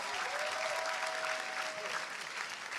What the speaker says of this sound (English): a round of applause one more time for the senior committee of all our speakers today